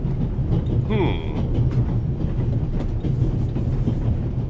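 Train running in a video game, a steady rumbling rail roll with clickety-clack and a brief squealing whine early on, continuous and fairly close.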